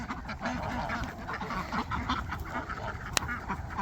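Several ducks quack repeatedly at close range, a busy overlapping chorus with one sharp click near the end.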